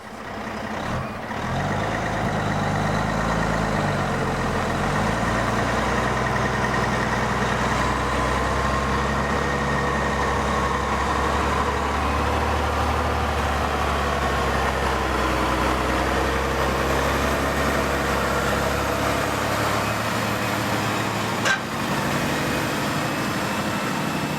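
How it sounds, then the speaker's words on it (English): An off-highway log truck engine idles with a deep, steady rumble, close and constant, with a faint repeating beep and a brief hiss partway through. "So I'm at an off-highway truck."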